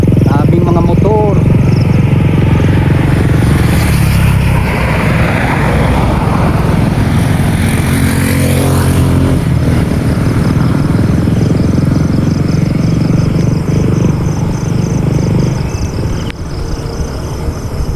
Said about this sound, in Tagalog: Daming mga motor.